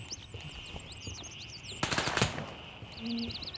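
Automatic rifle fire in the Gray Zone Warfare video game: a short, sharp burst of several rapid shots in the middle, with chirping birds and steady background ambience around it, no talking.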